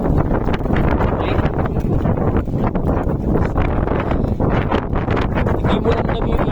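Strong wind blows across an island in Surigao del Sur, roaring steadily and buffeting the microphone loudly throughout, with faint rustling underneath.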